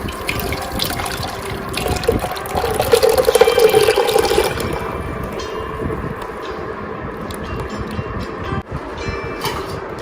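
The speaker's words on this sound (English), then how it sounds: "Now I'm adding this mixture of milk and egg." Milk and egg custard mixture poured from a container over hardened, set caramel in a dish, a steady liquid splash and trickle that swells in the first half, then settles into quieter pouring and faint handling noise.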